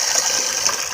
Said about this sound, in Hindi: अब जिसमें पानी डाल के बॉयल करने के लिए ऊपर रखते हैं